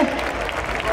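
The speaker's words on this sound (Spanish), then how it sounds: "¡Fuerte la ovación para las Navas!" Audience ovation at a bullfighting cutting contest (concurso de cortes) in Arévalo, Castilla y León, a steady wash of applause and crowd noise lasting the whole brief moment, with a voice talking over it.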